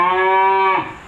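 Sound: cattle mooing

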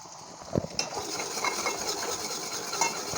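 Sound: onion frying and being stirred in a pan

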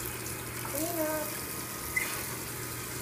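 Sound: water used to wash out a shaving kit cap

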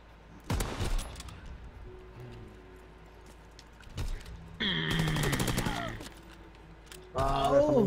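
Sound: loading a sniper weapon in a video game

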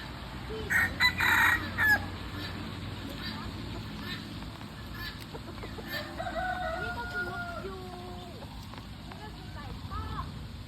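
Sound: chickens crowing and clucking in a zoo cage

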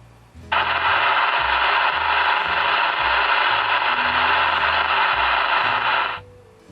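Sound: radio receiver static noise with squelch turned off

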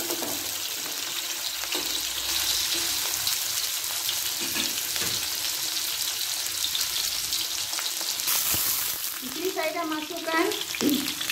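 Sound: frying shallots and fenugreek for fish curry

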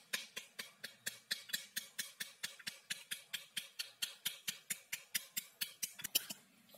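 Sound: tapping an upturned pomegranate half with a spatula or spoon

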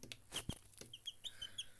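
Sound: chicks peeping

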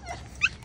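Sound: dog with puppies whimpering

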